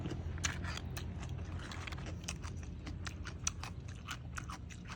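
Someone eating Thai crab papaya salad with crisp eggplant: repeated crunchy bites and chewing close to the mic, with irregular crackly crunches over a quiet low background.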